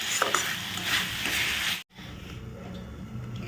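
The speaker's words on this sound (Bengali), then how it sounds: "তো এটাকে একটু ভালো করে নাড়িয়ে তারপরে নামিয়ে দেব, ভাজা ভাজা করে, যেন কাঁচা না থাকে" Fenugreek greens being stirred and fried in a pan, with scraping and sizzling close up, a brief break in the middle, then quieter stirring continues.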